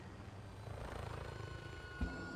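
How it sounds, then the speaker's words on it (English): Helicopter rotor drone in the Modern Warfare video game, a steady low rumbling whir held throughout at moderate level, with a brief dull thump near the end and no talking. "the fucking helicopter is loud as shit in this game"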